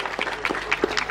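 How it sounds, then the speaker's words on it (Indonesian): Short round of applause from schoolchildren at an education department address in Jombang, a loose patter of claps from a moderate group, brief and fairly near. "Terima kasih, tepuk tangan semuanya"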